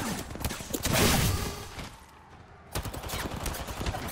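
Gunfire in Apex Legends rattles in bursts of rapid shots, fairly close. There is a brief lull in the middle before the firing picks up again.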